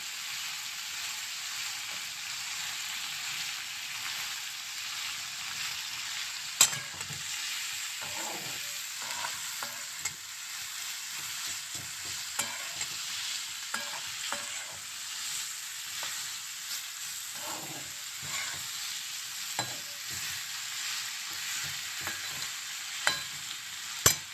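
Food frying in ghee and being stirred: a constant bright sizzle throughout, broken by repeated scraping and clinking strokes of a spoon against the pan at irregular intervals, close and moderately loud.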